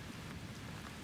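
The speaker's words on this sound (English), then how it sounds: "the rain continued its gentle drumming on the roof" Steady rain patters on a forest cabin roof, a soft, constant, even hiss with no voices, heard quietly up close.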